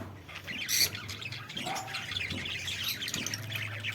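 Lovebirds in a breeding aviary squawk and chirp, with loud, repeated, scratchy calls close by that overlap continuously.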